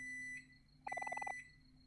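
A microwave alarm in the video game Omori sounds as a quick run of about nine evenly spaced electronic beeps, clear and close over a faint steady hum, with short quiet stretches before and after.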